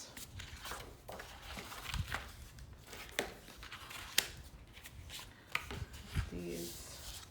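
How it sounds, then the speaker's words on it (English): Paper side flaps of a pet-themed mini album are burnished with soft, close rubbing strokes, a quiet run of scraping swipes punctuated by a few light taps and knocks. "now we're gonna do this burnishing of our side flaps"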